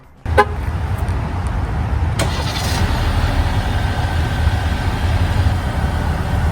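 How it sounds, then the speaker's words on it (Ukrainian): A 2025 Jeep Compass starts remotely from its key fob: a short horn chirp, then a click and the engine firing into a steady, even idle that runs to the end. "кнопка віддаленого запуску двигуна нікуди не ділася"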